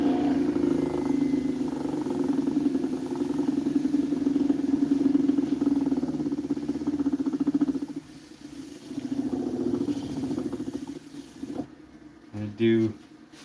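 Wood lathe turning an 8 by 4 inch walnut bowl while running roughly, producing a continuous low droning hum with a slight uneven wobble, fairly steady and close, dipping briefly before a short burst of tool or handling noise near the end.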